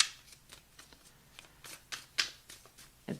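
Fountain Tarot cards are shuffled by hand close up, giving a quiet series of soft riffling flicks and slaps in an uneven rhythm, with no speech.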